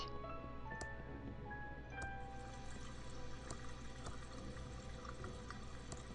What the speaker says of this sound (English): The glass is now filled with water.